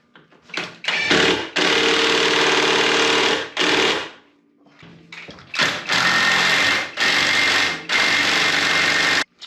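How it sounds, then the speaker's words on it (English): A power tool tightens the bolts on a Polaris Pro XP clutch, sounding in loud sustained whirring bursts with short stops between them and a longer pause partway through. "now I'm going to tighten everything down"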